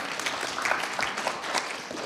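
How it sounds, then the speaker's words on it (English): Audience applause at a panel discussion, a brief burst of steady clapping from a room of people, moderately distant and fairly quiet. "This applause is for Ulana"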